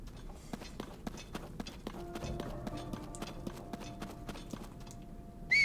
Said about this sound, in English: Will the horse come?